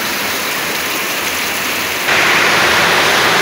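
Heavy storm rain hammers down at about 1 a.m. during a power cut, drumming on the tin roof of a house as a loud, dense, constant roar that swells louder partway through.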